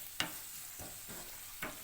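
Onions and curry leaves frying in a pan, a soft continuous sizzle with three or four scraping strokes of a spatula stirring at intervals, fairly quiet and close, with no talking.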